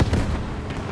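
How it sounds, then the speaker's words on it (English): A rifle grenade fired by an American anti-tank soldier at a Panzer IV tank in the WWII shooter Squad 44 lands as a single loud, booming blast that fills the whole short moment. "An American AT-man with a like a rifle grenade trying to shoot the Panzer IV."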